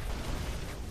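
A grenade explodes in a World War II Pacific shooter game, giving a brief, steady low rumbling blast with no clear sharp onset, moderately loud and without talk.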